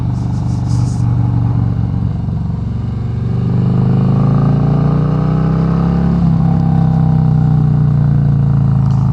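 A 2018 Harley-Davidson Road Glide Special fitted with Tab Performance mufflers rumbles loudly up close on a country road, its exhaust note sliding down as the engine brakes and then climbing again as throttle returns.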